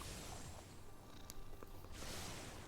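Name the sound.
elemental cat pet purring in MTG Arena video game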